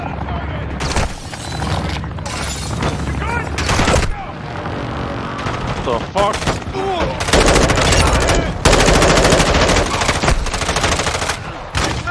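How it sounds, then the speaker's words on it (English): Machine gun fire in a video game, loud bursts of automatic shots that come and go across several seconds, with brief pauses between volleys and voices talking over parts of it. "I'm getting shot from the hill"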